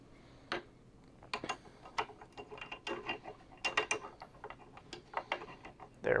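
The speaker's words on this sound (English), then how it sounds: "before I go ahead and get the screw in there." While a Progression II 602 FC is being assembled, a screw is driven in by hand, giving a quiet, irregular run of ratcheting clicks and ticks close up.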